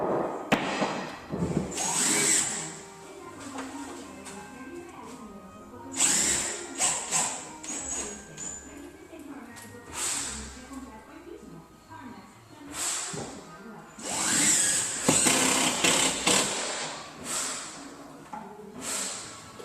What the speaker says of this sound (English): screwing it to the studs that he's already marked where he knows where all the studs are